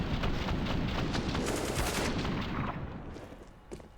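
Gunfire erupts in a professional Counter-Strike match, a dense, loud barrage of rapid shots that thins out toward the end, leaving a few scattered bursts.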